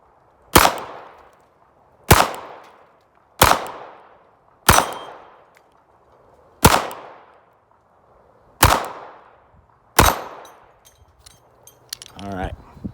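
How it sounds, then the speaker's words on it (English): Seven loud, sharp pistol shots from a Ruger LCP II Lite, fired at a steady pace about one to two seconds apart, each with a short ringing decay, followed by faint handling clatter. "So let's pop these last 10 rounds off"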